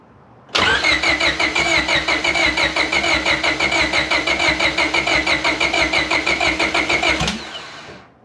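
A freshly rebuilt race car engine cranks and catches abruptly, then runs loud and close at a steady, lumpy idle for several seconds before cutting off suddenly.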